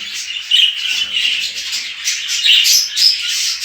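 Budgerigars in a home breeding cage chirp and warble continuously and close up, their bright, busy chatter filling the space.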